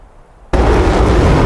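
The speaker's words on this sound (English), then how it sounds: "indicating that all bombs have been dropped" Bomb explosions in the DCS AJS37 flight simulator game, a sudden loud blast after near silence that swells into a sustained, dense roaring rumble.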